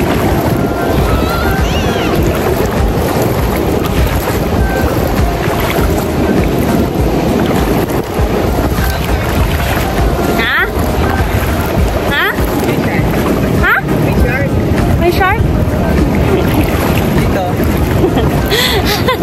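Constant broadband roar of open sea and wind against a small boat off Bolinao, Pangasinan, with waves washing steadily throughout and occasional splashes, loud and close, buffeted by wind on the microphone.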